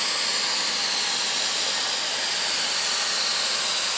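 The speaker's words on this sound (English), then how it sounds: "the procedure of melting the rod with welding machine and fixing both the joints" A hot-air welding machine melts a welding rod into the seams of indoor synthetic sports flooring, giving off a steady, loud, close hiss of rushing air with no breaks.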